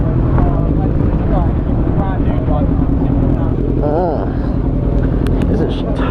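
A loud baffleless motorbike at an outdoor car meet rumbles and revs close by, a heavy continuous engine roar with rising throttle blips while people talk over it.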